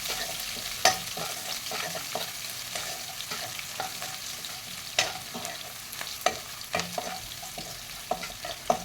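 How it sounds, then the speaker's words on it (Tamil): Crushed garlic sautés in oil for a South Indian pumpkin gravy: a steady low sizzle under repeated sharp spatula scrapes and clicks against the pan, close and fairly loud, with no talking. "இந்த எண்ணெயிலே போட்டு நல்லா வதக்கலாம் பூண்டு"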